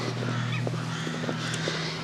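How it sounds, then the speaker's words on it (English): Several crows caw in short outdoor calls near a residential street by a doctor's surgery, set against a steady low mechanical hum from nearby work. "You might be able to hear some work going on in the background, as well as lots of crows."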